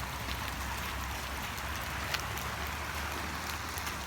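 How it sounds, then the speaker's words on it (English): Heavy rain during a storm that is causing floods, a steady dense hiss of falling water over a low rumble that carries on without a break, with a few sharper drop sounds and no voices. "This is an hour and a half after the rain started."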